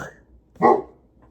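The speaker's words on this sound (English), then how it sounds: "I never want to discourage him barking, because, guard dog." A single dog bark rings out fairly close, a short sharp burst, preceded by a faint low grumble and followed by quiet.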